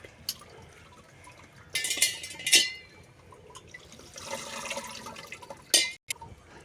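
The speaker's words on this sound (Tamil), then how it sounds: "இது கூட கொஞ்சம் பச்சை தண்ணி கலந்துக்க" Cold tap water poured over freshly drained boiled homemade pasta, a splashing, trickling pour with a few bursts of running water and drips, fairly faint and close, with no one speaking.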